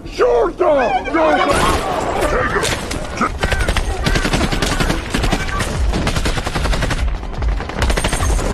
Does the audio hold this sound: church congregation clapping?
no